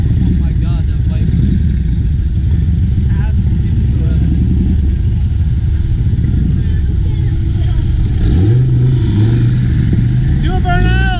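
A motorcycle engine rumbles and revs in a video game, a loud sustained drone with rising throttle pitch near the end, while people talk over it.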